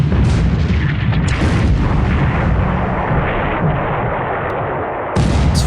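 Naval gunfire and shell hits in a night-combat naval wargame, with dense, continuous rumbling booms and overlapping blasts, loud and close throughout with no voices.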